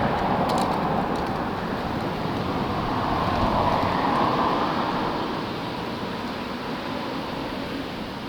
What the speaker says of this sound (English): so you'll hear a lot of wind noise.